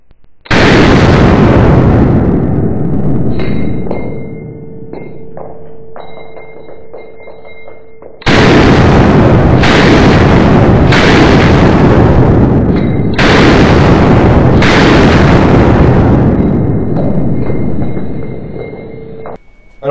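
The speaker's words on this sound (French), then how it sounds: "C'est son cache-flamme qui lui fait ce bruit là." A UTAS UT9M 9x19 firearm fires loud, close shots with a ringing flash hider. Two sustained bursts sound, the second broken into several rapid strings separated by brief gaps, each trailing into a long echoing decay.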